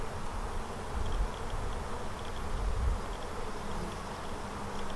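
Honeybees in an open beehive during a frame-by-frame inspection, giving a steady dense buzzing drone that runs through the whole stretch, close and continuous with no talk.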